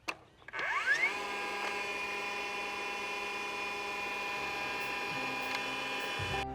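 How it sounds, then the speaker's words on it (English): A DeWalt cordless framing nailer's flywheel spins up from a click into a rising whine that settles into a steady, close mechanical hum, running alone without talk before dropping slightly near the end. "let's go ahead and take a listen to the flywheel rev up on this thing"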